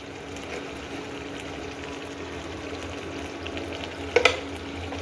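Red chili powder frying in hot oil for chicken biryani masala, a steady sizzling crackle with a brief utensil clink near the end, no voices.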